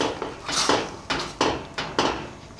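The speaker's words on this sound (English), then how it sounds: "Just stir it all up" A spoon scrapes and knocks around a pot of kale and squash soup, several clattering strokes in an uneven rhythm, close and moderately loud with no voices.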